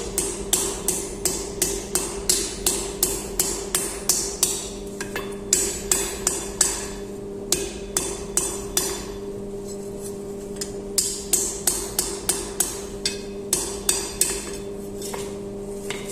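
Steady, ringing hammer blows strike hot metal on an anvil over and over in a fast even rhythm, each hit sharp and metallic, with a low steady hum underneath, while forging a blacksmith's tool.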